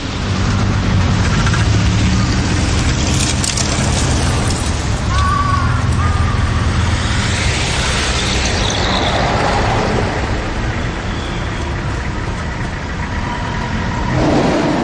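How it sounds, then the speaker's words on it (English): Busy road traffic rumbling past a pedestrian crossing, with a steady loud roar of engines and tires close by that swells as vehicles accelerate and pass, continuous throughout. "Wait for the lights to stop the traffic."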